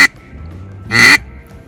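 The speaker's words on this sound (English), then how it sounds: "To do a single quack, you just say it one time, wait a few seconds, do it again." One loud, close quack blown on a duck call stands alone between short pauses, with a clipped note just before it and quiet room tone around.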